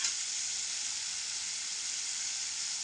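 Tomatoes fry in oil with turmeric and red chili powder for a home-style cauliflower, peas and carrot curry, giving a steady, bright sizzle that holds evenly for a few seconds with no voices.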